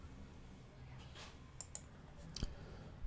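A computer mouse clicks on the Zoom Start Meeting Now button, a few faint, sharp clicks scattered over quiet room noise, two close together then one more.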